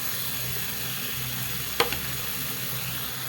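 Gravy of tamarind and ground coconut simmering in a cooking pot, giving a steady, soft bubbling sizzle throughout. A brief clink sounds near the middle.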